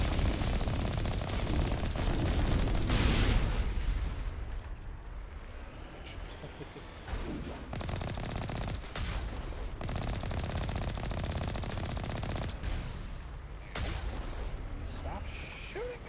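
Video game gunfire rattles in heavy, loud bursts of rapid shots, easing briefly before rising again, with a voice talking over parts of it.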